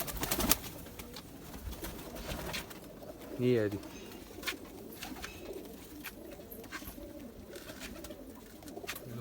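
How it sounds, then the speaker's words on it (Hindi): A Zeera pigeon, a Kasuri Zeera, gives a brief burst of soft cooing midway, close by, amid faint background noise and someone speaking briefly. "लो जी एक और ज़ीरा कबूतर"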